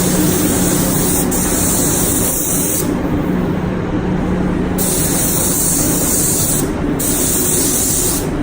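Spray gun applying primer to a damaged Audi TT body part, with loud hissing bursts that start and stop several times over steady background noise.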